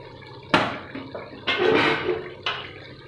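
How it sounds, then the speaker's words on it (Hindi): Yakhni stock for mutton pulao poured into a cooking pot, heard as three separate splashing pours, each a short loud gush that trails off, with no voices. "तो इसके अंदर मैं डाल दूँगी यखनी।"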